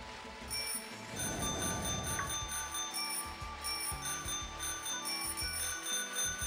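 Bell chimes ring out in the Pokémon Shield video game, a bright metallic ringing with light clicking over steady game music, fairly loud and continuous for several seconds.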